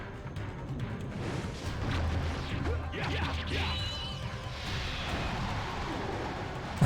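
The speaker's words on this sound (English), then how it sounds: "Let's try this tornado." Tornado spell cast in the video game Blood Will Tell, heard as a loud swirling whoosh with crashing, smashing impacts that swell over several seconds.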